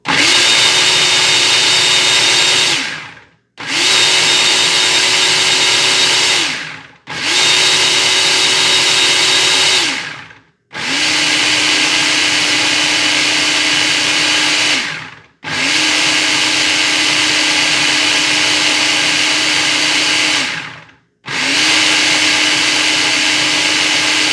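A blender pulses homemade red salsa in six loud, sustained bursts of whirring motor noise, each cut off by a brief silent gap.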